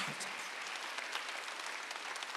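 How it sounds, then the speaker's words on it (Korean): A church congregation at a Sunday worship service claps together in thanks, producing a continuous, moderately loud patter of many hands with a few sharper individual claps standing out. No one speaks over it. "박수하면서 감사해"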